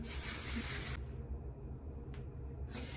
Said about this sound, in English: I'm gonna go in with this hairspray. I'm just gonna spray it all over.